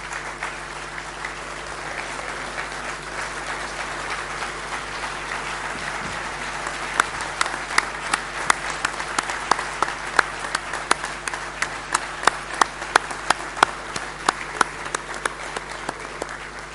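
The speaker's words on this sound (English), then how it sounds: "just to stand and give the outgoing presidium a round of applause" A congress audience stands and applauds the outgoing presidium in a large hall, with a long, steady wash of clapping from many people and a few sharper claps standing out toward the end.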